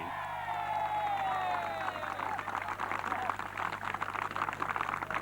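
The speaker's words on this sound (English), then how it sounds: "An enthusiastic crowd supporting him" Applause and cheering from an enthusiastic crowd outdoors at the 1987 opening of Old Conna Golf Club, as the club captain takes the first drive on the new course; steady clapping swells and continues, moderately close, with a voice speaking over the opening.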